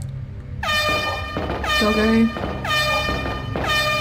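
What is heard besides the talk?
air horn sound effect played on stream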